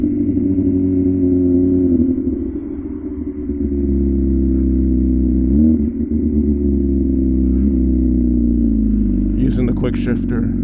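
Steady low engine drone from an MV Agusta Rush 1000 motorcycle riding along, with brief dips as the quick shifter changes gears and a rider talking over it, ending with a short burst of higher noise.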